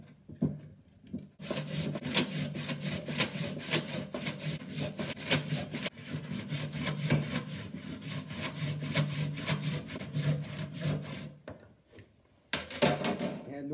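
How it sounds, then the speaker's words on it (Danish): A hand saw cuts through wood at a hand-operated sawmill with steady, rasping back-and-forth strokes. The rhythm is continuous and close up for about ten seconds, then pauses briefly before a final few strokes. "Nu fik vi savet den færdig."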